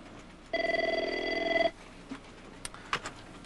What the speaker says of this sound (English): I have my phone. I'll call you later.